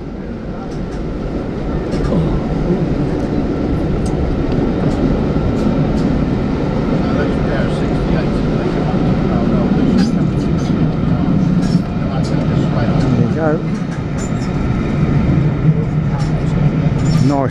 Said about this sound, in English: Nice pendolino along there now